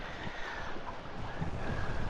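Steady wind rushes across the microphone at a boat anchorage, a broad continuous hiss with faint water lapping beneath, no voices present.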